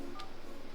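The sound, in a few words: dialing a number on an office telephone keypad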